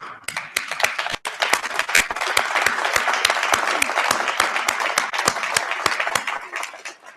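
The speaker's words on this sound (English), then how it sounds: "Graduates, I invite you all to stand up, turn around, salute, and applaud your family and friends for their support from the sidelines." Graduates at a convocation ceremony applaud their family and friends, a dense, steady wash of many hands clapping with a few sharp, louder claps standing out near the front, sustained throughout.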